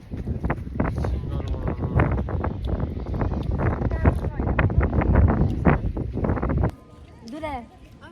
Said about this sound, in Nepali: हेर्नु न कस्तो मजाको हावा